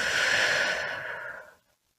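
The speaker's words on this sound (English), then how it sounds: "and a deep breath out." One long, deep exhale during a guided breathing and prayer meditation, a close, breathy rush of air that fades out after about a second and a half into silence.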